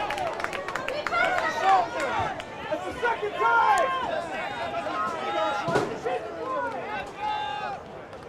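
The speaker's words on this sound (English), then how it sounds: "you can hear the crowd wanting yellow cards" A soccer crowd at a high school regional match between Rochester Adams and Troy Athens shouts and whistles, many overlapping voices rising and falling at a distance, with a commentator talking over it.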